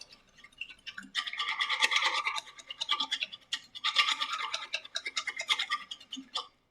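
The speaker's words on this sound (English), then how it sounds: "Mix it really, really well." A sauce mixture of honey, zest and other ingredients for salmon is mixed briskly in a bowl, giving close scratchy whisking strokes in two bursts with a short pause between them.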